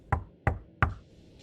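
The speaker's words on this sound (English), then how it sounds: "he heard a sharp knock on the door" Three sharp, evenly spaced knocks on a door ring out clearly and alone, each a hard crisp rap with a short decay.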